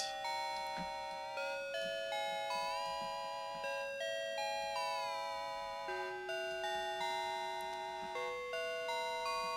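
A synthesized music box bell patch from Ableton Operator plays a gentle melody of sustained, chiming bell tones with bright overtones, notes stepping up and down at a moderate pace, clean and alone without talk.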